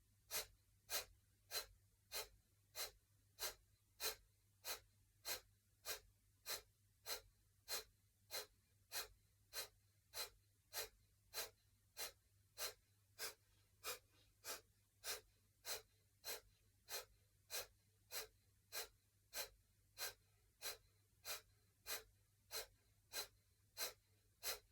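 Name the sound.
breath of fire rapid breathing technique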